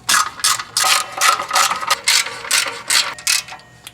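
Hand ratchet tightening heat shield bolts on a car engine during a head gasket job, a steady run of close, crisp clicking strokes in short repeated bursts, with no talking.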